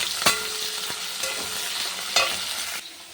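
Potatoes and onions with nigella seeds stirred in hot oil, a steady sizzle broken by a few sharp scrapes of the spoon against the pan.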